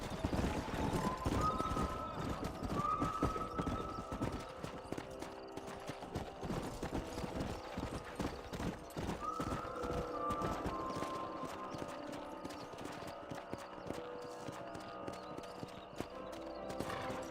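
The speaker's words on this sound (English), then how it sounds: "don't let those horses out of your sight" Horses in the Red Dead Redemption video game clop and neigh amid game music and other effects, with hoofbeats running steadily throughout and a few whinnies rising above the mix. People talk at times.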